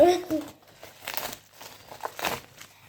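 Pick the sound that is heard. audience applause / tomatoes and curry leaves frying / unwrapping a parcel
unwrapping a parcel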